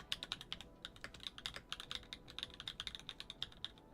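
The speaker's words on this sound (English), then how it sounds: "GMK Redline and Gateron Smoothie Mint. One of their new switches, and it is one of their clackier" Rapid, even typing on a repaired Glorious GMMK 3 keyboard fitted with clacky Gateron Smoothie Mint switches and GMK Redline keycaps. Quick, fairly quiet clacks follow one another steadily, with no voices over them.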